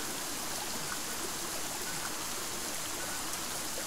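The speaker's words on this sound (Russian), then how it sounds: "Ого, нифига себе, вот этот дождь впорол." Steady rain pours in the dinosaur survival game Saurian, a dense, even hiss of falling water that carries unbroken and fairly soft throughout.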